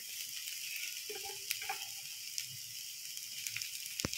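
Boiled potatoes frying in a pan with vegetable masala, turmeric and Kashmiri red chili powder, giving a steady soft sizzle and hiss with a few light clicks and scrapes; no voices.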